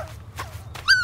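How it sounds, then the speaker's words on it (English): A cartoon dog in a kids' educational video game gives a brief whimper and yip, short and fairly clear against low background game sound. "Grok's new dog is very cute."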